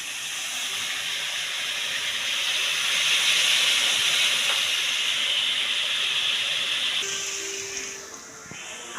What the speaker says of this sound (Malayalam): നമുക്ക് സവാളയെ നല്ലോണം വഴറ്റിയെടുക്കണം.